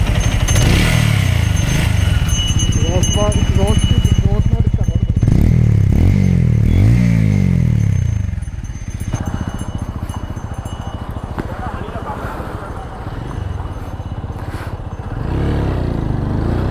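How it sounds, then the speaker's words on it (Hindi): A TVS Apache RTR 200 4V motorcycle engine idles steadily with a low, uneven chugging, some clattering mechanical noise and a brief rev partway through. "आइडियल पर है इंजन।"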